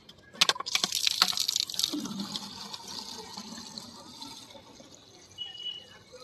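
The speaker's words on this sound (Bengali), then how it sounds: "এই বোতলটা দিয়েই আমি গাছে জল দেব" Water poured from a bottle onto dry garden plants, giving a close splashing and trickling burst early on that fades into a softer, steady dribble.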